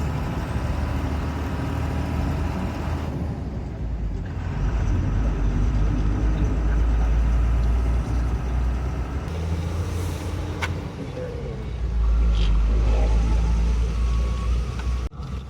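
Vehicles drive along a road heading toward Visakhapatnam port, a continuous low rumble of engines and tyres with traffic swelling and easing as cars and trucks pass nearby.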